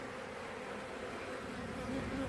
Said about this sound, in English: There's a decent sized amount of bees in it.